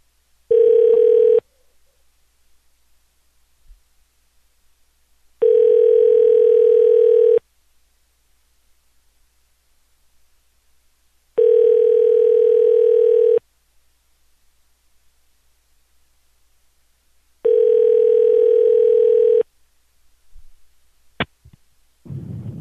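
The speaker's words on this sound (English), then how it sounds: "Okay, it's dialing." An outgoing telephone call rings: four steady, evenly spaced ringback tones, each lasting about two seconds with several seconds of silence between, clear and fairly loud, followed by a faint click at the end.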